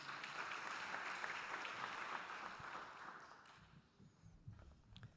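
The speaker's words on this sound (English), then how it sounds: "Let's give a round of applause to the speaker" Audience at an AI conference in Paris applauding a speaker, sustained steady clapping that gradually thins and fades toward the end with a few scattered claps.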